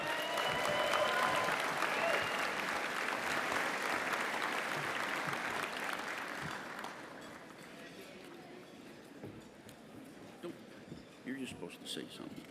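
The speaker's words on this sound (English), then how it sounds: "Please give a loud round of applause for National Commander-in-Chief Al Lipphardt." A large audience at a VFW National Convention awards banquet applauds and cheers loudly for the Commander-in-Chief, the clapping fading after about seven seconds into scattered claps and talk.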